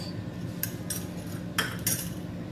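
A lid set onto a cooking pot during veg biryani prep in a home kitchen, heard as a few brief metallic clinks and clatters against steady background hum, with no talk.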